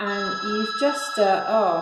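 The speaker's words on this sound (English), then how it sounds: "that's the phone going to spoil the video" A telephone rings with a warbling electronic tone in repeated bursts, heard indoors underneath someone talking close by.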